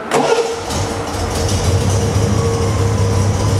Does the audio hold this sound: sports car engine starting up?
yes